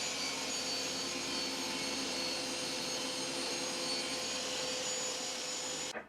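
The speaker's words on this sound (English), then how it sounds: "put it on the crosscut sled and cut from here to here" A saw cutting wood on a crosscut sled while building bookshelves, giving a loud, steady whining roar for about six seconds that cuts off abruptly at the end.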